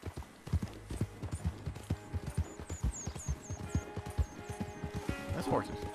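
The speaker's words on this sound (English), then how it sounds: "That's horses." Rhythmic horse hoofbeats in Red Dead Redemption 2 clip-clop steadily at a gallop, with a high chirping tone and music in the background; a short whinny-like sound rises near the end.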